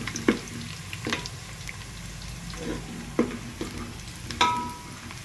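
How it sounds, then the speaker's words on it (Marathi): Onions fry in a pan for veg pulao, a steady close sizzle broken by several scraping stirs of a spoon against the pan. "आता हा लाल व्हायला थोडा वेळ लागतो, कांद्याला थोडासा वेळ लागतो।"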